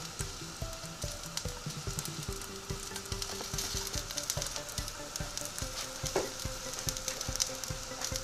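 A vegan veggie burger fries in a pan, giving a steady crackling sizzle with dense small pops throughout, moderately close, and some faint tonal background sound underneath.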